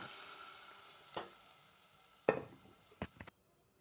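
Dal goes into a pan of turmeric tempering. It gives a quiet sizzle with a few sharp stirring scrapes and knocks spaced across a few seconds, then cuts off abruptly.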